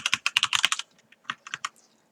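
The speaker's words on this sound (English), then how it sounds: "So I'm gonna have to type this." A computer keyboard clatters close up as a quick run of typing gives way to a short pause, followed by a few more scattered keystrokes, crisp and distinct in a quiet room.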